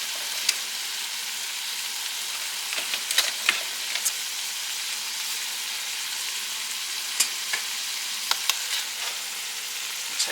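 Food browning in a hot pan gives a continuous even sizzle with scattered crisp pops throughout, close and steady, with no voices.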